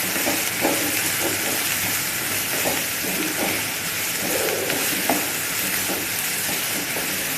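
Chopped onions hit two ladles of hot oil in a kadhai and sizzle steadily and loudly throughout, a dense frying hiss with small crackles and stirring clinks.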